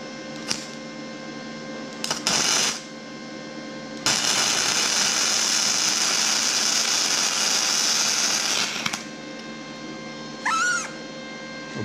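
An OZITO 100 amp MIG welder laying a first weld: short crackling bursts of arc, then a steady, loud, harsh buzzing crackle held for about five seconds, with no talking.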